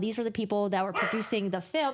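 A dog barks and yips repeatedly nearby, in short sharp bursts mixed with whimpering tones, while a person keeps talking over it.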